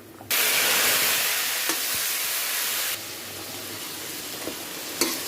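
Panch phoron spices hit hot oil for dal with a sudden loud sizzle that hisses steadily, easing slightly after a few seconds, with a couple of faint stirring clicks.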